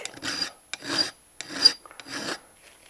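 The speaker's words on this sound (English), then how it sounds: "sneak up on it with the finer file" A fine metal file rasps across steel while fitting a beavertail grip safety to a 1911 pistol frame, four distinct back-and-forth strokes in a steady rhythm, close and clear with no talk.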